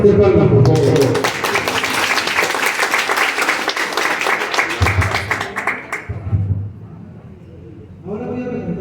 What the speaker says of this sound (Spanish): Lo recibimos con fuerte palmas, por favor.